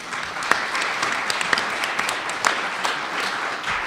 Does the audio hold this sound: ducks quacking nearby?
no